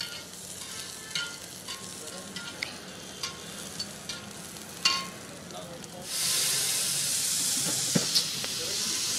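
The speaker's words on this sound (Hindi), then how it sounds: "और ये भाजी में लगाया जा रहा है थोड़ा सा तड़का" Tadka made in olive oil is poured into pav bhaji at a street food stall, giving a sudden loud, steady sizzle after several clinks and utensil taps, amid background street bustle.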